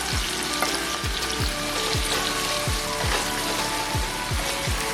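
White onions and Anaheim and Fresno chilies sizzle loudly in a pan with seared short ribs, a dense steady frying hiss punctuated by repeated stirring strokes, close and without talk.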